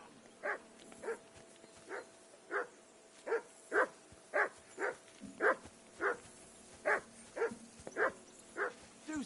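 A dog barks repeatedly in Kingdom Come: Deliverance 2, about fifteen evenly spaced barks over a low steady background, with no talking.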